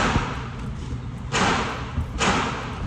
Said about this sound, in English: All right, now let's get this beautiful AK out.